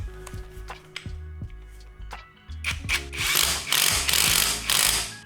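An impact wrench hammers through a torque limiting extension, starting with sparse clicks and ratcheting taps, then breaking into loud, rapid rattling bursts near the end.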